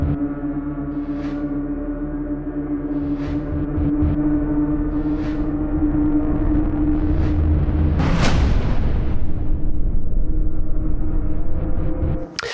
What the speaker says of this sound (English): I'm going to chuck that standard hit in